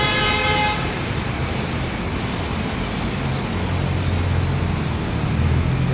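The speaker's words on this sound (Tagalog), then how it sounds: "ang trapiko dito sa lungsod ng Mandaluyong" Steady roar of city street traffic in Mandaluyong, with passing cars and trucks, a clear horn toot at the start and a low engine drone near the end, continuous and fairly loud.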